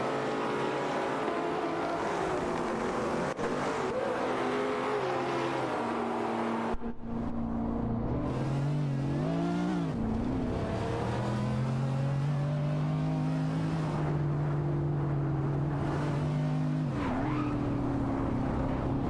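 Race cars in an AI racing video game roar past one after another, engines rising and falling in pitch as they accelerate and sweep by, loud and continuous with no talk.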